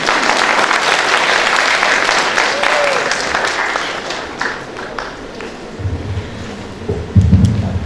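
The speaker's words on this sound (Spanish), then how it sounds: "Demos un fuerte aplauso por favor para presentar la exposición" An audience applauds before a presentation at a hotel school event, loud dense clapping that gradually thins out, with a voice beginning to speak near the end.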